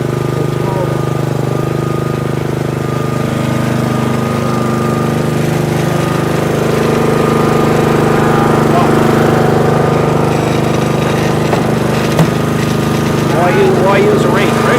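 A self-propelled lawn mower engine keeps running steadily after its handles and clutches are released, a loud, even mechanical drone with a speaking voice over it.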